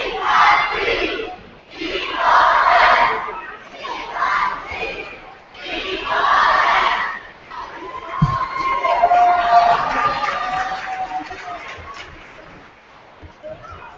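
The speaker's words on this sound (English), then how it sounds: "And listen to the Republic crowd." Home crowd roaring and cheering at a high school basketball game as Republic takes a 46-36 lead, loud sustained crowd noise swelling in waves with a commentator talking over it.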